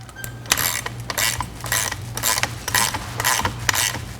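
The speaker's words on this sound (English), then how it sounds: "Now I'm going to tighten up the nut on the bottom." A wrench tightening the bottom nut on a watercraft handle pole, repeated ratcheting clicks and metallic clinks in a quick uneven rhythm, close and fairly loud, with no talk.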